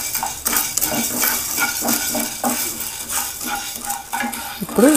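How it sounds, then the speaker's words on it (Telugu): Chana dal and urad dal fry in a pan on a medium flame, a soft sizzle under repeated close scraping and stirring with a utensil, with a metallic clink near the end. "ఇలా ఈ శనగపప్పు కొంచెం ఫ్రై అయిన తర్వాత ఈ మినపప్పు కూడా వేసి 2 మీడియం ఫ్లేమ్లో పెట్టి దోరగా వేయించుకోవాలి."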